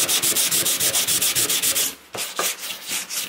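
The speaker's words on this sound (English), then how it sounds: "I'll take the other piece of 80 grit and kind of scuff real good right on those edges." Edges on a 1996 Turbo Honda Civic body panel are scuffed with 80 grit sandpaper, a close, rhythmic rasping of quick back-and-forth strokes that slows into a few separate rubs toward the end.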